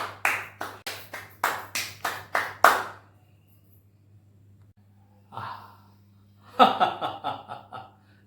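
Handclapping in short bursts: a rapid run of about nine sharp claps, a pause of near silence, a single soft sound, then another quick flurry of claps, close and fairly loud over a low steady hum.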